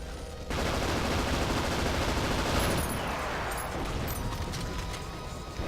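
Dense gunfire and rocket explosions from the 007 Agent Under Fire video game, a loud, continuous wash of shots and blasts running almost the whole time after a brief quiet start.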